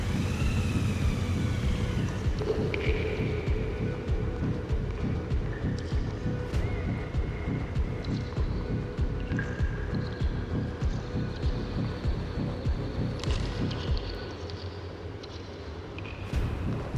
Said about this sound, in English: You can hear the engine sound echoing off the wall,